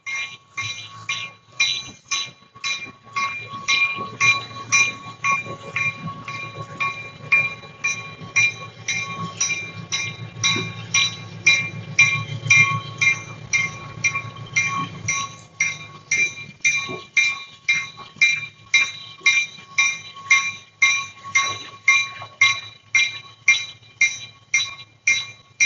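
A train moves along the track and picks up railroad cars, with a low rumble under a long run of rhythmic metallic clinks that later settle into a steady, evenly spaced clicking beat.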